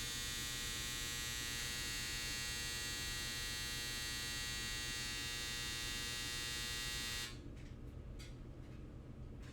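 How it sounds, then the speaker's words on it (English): A home washing machine runs with a steady, loud electric hum and buzz that drops away sharply near the end, leaving only a quieter background with a few faint knocks. "that's my washing machine"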